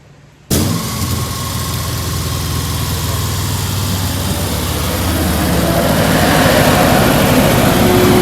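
A VW bus fitted with a converted Subaru engine and custom exhaust starts up and settles into a steady, close idle, its low rumble holding continuously and swelling slightly toward the end.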